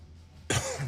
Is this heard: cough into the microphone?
yes